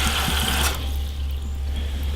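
Water runs from a tap into feed at a donkey shelter, a steady rushing pour that cuts off partway, leaving a low background hum.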